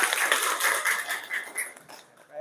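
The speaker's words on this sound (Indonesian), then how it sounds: "Oke, tepuk tangan." A class of ninth-grade pupils clapping their hands together, a dense, continuous patter of many claps that stays fairly loud throughout and thins out toward the end.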